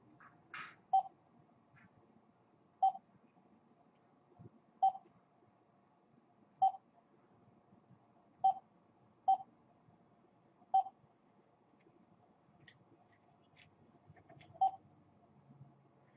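A telephone number is dialed by a person with nerve-damaged hands, one slow keypad beep at a time. There are about eight short, clear tones spaced unevenly a second or two apart in a quiet room.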